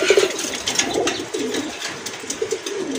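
A pair of kagoji pigeons coos in repeated soft, throaty phrases close by, with a steady low murmur of other birds behind them.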